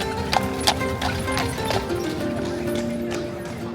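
Horses' hooves clip-clop over the street in Bruges, a close, regular run of sharp clops at a brisk pace above a busy background murmur.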